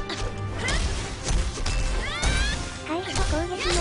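A black cat meows in the PS4 game Gravity Daze, two or three short rising calls heard over a busy mix of game effects, music and voices.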